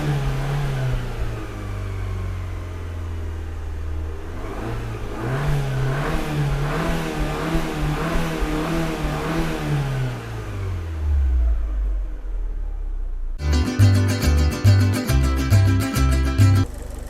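An Abarth 500 engine with no water pump fitted runs in a garage, its revs rising and falling in a long slow sweep before settling, then a different rapid rhythmic pulsing takes over near the end.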